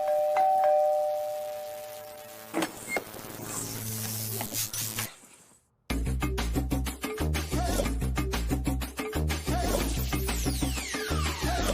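A doorbell rings near and clear with a bright ringing tone, then the sound cuts to a brief silence before loud, rhythmic, percussive music bursts in.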